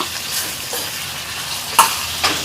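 Eggplant fries in hot oil with a steady close sizzle, broken by a few scraping stirs and a brief clink of a utensil, and no voices.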